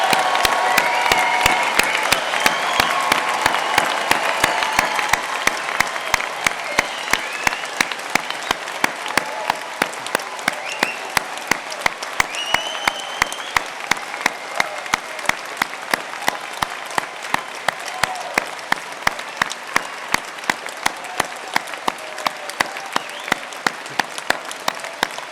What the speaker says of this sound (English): let's give them one more huge, the loudest, most rowdy round of applause